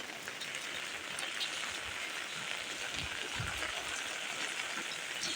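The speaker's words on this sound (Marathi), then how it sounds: "पाऊस जो पडतो त्याचा पण थोडा आवाज आहे" Steady rain falling on a farm in Konkan, a dense even hiss that fills the whole stretch, with a few soft low thumps and no talking.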